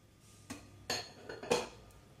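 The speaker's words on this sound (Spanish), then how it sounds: "Y empezamos a batir." A utensil strikes a bowl holding sugar, vanilla and oil as whisking begins: four separate clinking, scraping taps at an uneven pace, close and fairly quiet against a hushed room.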